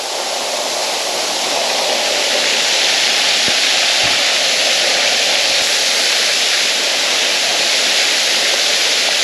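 Suter Falls waterfall rushing as a steady, loud, broadband roar, close and continuous with no other sounds over it.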